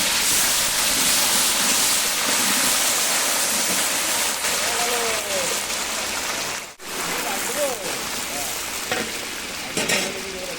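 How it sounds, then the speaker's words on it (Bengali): Potato pieces fry in hot oil in a wok, cooked as an addition to a meat dish for a large event meal. A loud, steady sizzle runs throughout, with faint voices in the background. "এখন আমি মাংসতে দেওয়ার জন্য কয়েক টুকরো আলু ভেজে নিচ্ছি"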